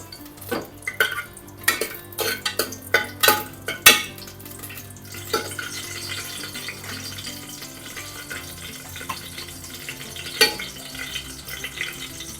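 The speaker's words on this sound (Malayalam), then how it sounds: "പിന്നെ ഒരു മൂന്ന് ഗ്രാമ്പു ഒരു നാല് ഏലക്ക എല്ലാം കൂടെ ഒന്ന് ഇളക്കാൻ ഒന്നിട്ട് കൊടുക്കാം" A spoon scrapes and clinks against a pan as cloves and cardamom fry in oil for a spinach and lentil curry, with several sharp taps early on, then a softer steady sizzle.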